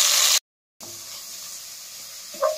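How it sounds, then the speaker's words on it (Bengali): Cauliflower frying in oil in a wok gives a steady close hiss that cuts out briefly, then resumes as a quieter sizzle with a small clink near the end. "ফুলকপিটা প্রথমে ভেজে নিচ্ছি"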